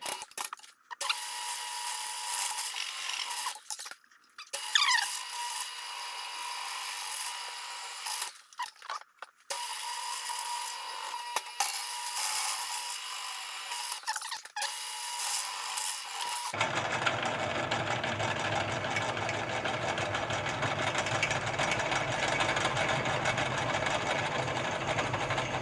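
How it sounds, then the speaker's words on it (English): A hole is drilled in a small trailer part to take a cotter pin. Harsh, grinding drill bursts come close up with short pauses for about sixteen seconds, then give way to one continuous, steady whirring grind. "drill a hole, and just put a cotter pin through it so that I can always get this thing out of here"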